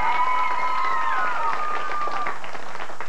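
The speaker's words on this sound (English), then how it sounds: "Nice round of applause for them." Applause breaks out for two young contestants at a 1990 kids' quiz show quarterfinal, a steady wash of studio-audience clapping that holds for a few seconds and then thins out.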